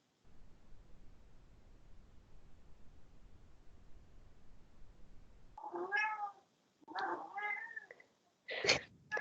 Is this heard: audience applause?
no